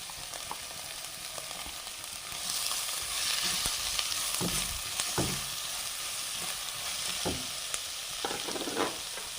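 Two medium onions, sliced lengthwise, sizzle in a pan for chicken roast, a steady fry punctuated by scraping stirs and occasional spatula knocks.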